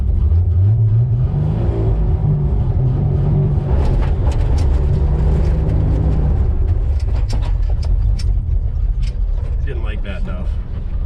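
The engine of a 1959 Chevrolet Bel Air with a manual transmission and no rear brakes, abandoned for 45 years, revs loudly and rises in pitch, then gives way to rough, noisy mechanical sound, with people talking over it throughout.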